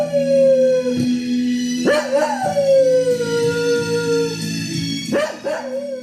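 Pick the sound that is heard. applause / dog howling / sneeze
dog howling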